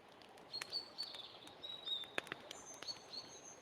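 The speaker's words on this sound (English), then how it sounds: "And now I can hear the birds chirping and stuff." Faint ambient birdsong from a virtual tabletop game map, thin high chirps and tweets scattered over a soft hiss, with a few light taps and no talking.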